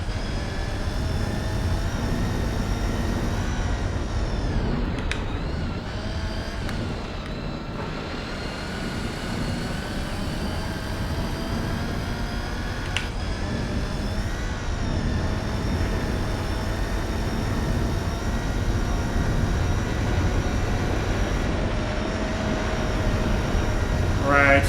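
A car engine at full throttle in Gran Turismo 4, a sustained, steady high-revving drone with a strong tonal whine, holding loud throughout the stretch while a person talks over it.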